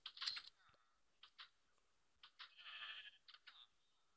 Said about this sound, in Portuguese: Eu pintei minhas ovelhas.